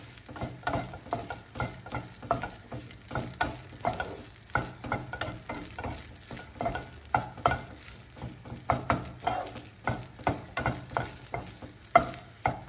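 Egg rice is fried and stirred in a pan, a soft sizzle broken by steady rhythmic scraping strokes of a spatula, close and continuous without speech.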